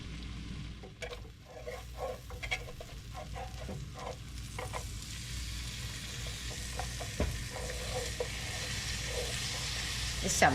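Big hunks of garlic sizzle and fry in a pan, with steady crackling and stirring clatter close by. The sizzle grows slightly busier toward the end.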